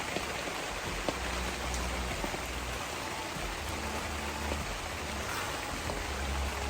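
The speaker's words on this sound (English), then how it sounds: "I just hope this rain goes away." Rain falls steadily on a campsite, a dense, even hiss of drops with no letup, heard close and continuous throughout.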